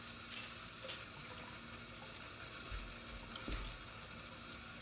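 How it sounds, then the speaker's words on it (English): Hot tap water runs steadily as metal nail implements are rinsed in a sink, a constant close hiss and splash with faint clinks and low knocks of tools shifting under the stream. "we have to thoroughly rinse it all with hot water."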